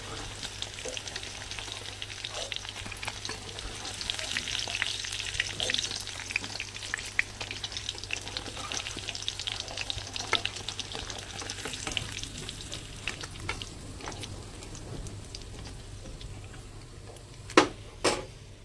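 Paneer frying in oil in a kadai gives a steady, dense crackle throughout, with occasional clicks and stirring knocks and one sharper tap near the end; no talking.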